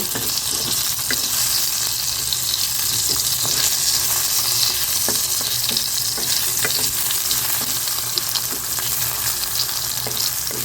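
Tomatoes frying in a pan for a chutney, a close and continuous loud sizzle with crackles and occasional stirring scrapes, with no talking.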